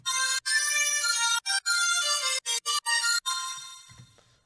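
A bright, buzzy synth lead plays a stepping melody with short choppy gaps, then rings out and fades away alone.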